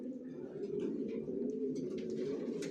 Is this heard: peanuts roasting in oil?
no